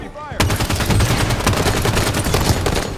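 Sustained automatic gunfire in a Halo match bursts in abruptly after a brief quieter moment, then continues loud and rapid to the end.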